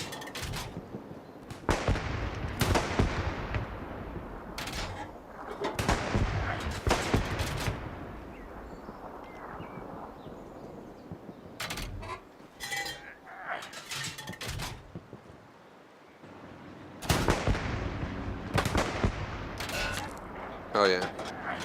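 Gunfire in the WWII shooter Hell Let Loose: repeated loud bursts of rifle and machine-gun fire come in irregular clusters, some shots near and sharp, others more distant, with quieter lulls of battlefield ambience between them.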